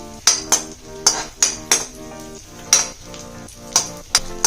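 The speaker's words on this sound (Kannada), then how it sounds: "ಈ ದ್ರಾಕ್ಷಿನ ಹಾಕಿ 1 ಸೆಕೆಂಡಲ್ಲಿ ತೆಕ್ಕೋತಾ ಇದ್ದೀನಿ ನಾನು" Raisins fry in a pan for carrot halwa, a steady sizzle broken by repeated sharp metallic clinks of a spoon against the pan, about a dozen taps at an uneven pace.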